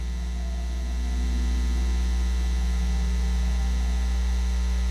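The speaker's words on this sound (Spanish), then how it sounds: "Se escuchaba solamente interferencia." Steady, loud interference on a security guard's radio: a continuous electrical hum with a faint hiss over it, swelling slightly after the first second and then holding even, with no voices.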